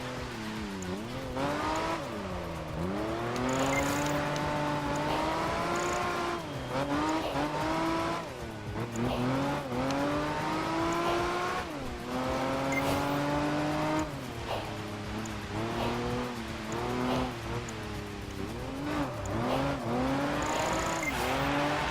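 A race car in Project Gotham Racing 4 roars continuously at high revs, its engine pitch repeatedly climbing and dropping through gear changes and corners, with intermittent tire squeal and skidding over roughly twenty seconds.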